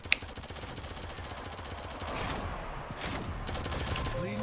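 Rapid bursts of gunfire in a Shadowgun Legends duel landing a headshot, steady rattling shots under game ambience that grows louder midway, with faint voice nearby.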